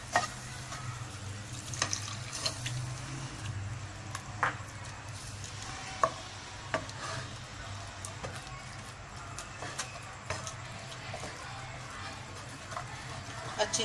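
Milk is poured a little at a time into a buttered pan and cooks there, giving a soft steady sizzle with scattered clicks and scrapes of stirring, fairly quiet and close, with light talking over it.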